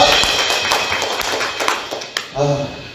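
Clapping from a church congregation during Sunday worship, a brisk run of hand claps with a voice speaking over them near the end.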